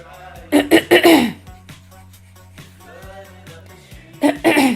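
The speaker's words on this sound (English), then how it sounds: "I don't mean to be clearing my throat" A person clears their throat several times in quick succession, close and fairly loud, with a quieter stretch of voiced sound in between and another burst at the end.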